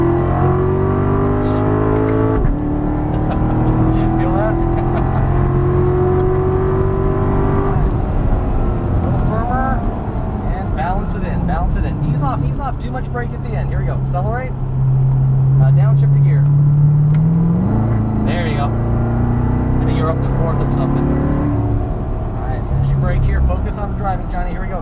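A 2014 Chevrolet Corvette C7 engine accelerates and revs hard on a race track, a loud continuous roar climbing in pitch through gear changes, with an instructor talking over it throughout.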